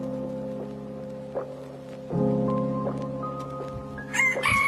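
A rooster crows loudly and close by: a long, strained harmonic call rising out of steady background noise, followed by further shorter calls toward the end.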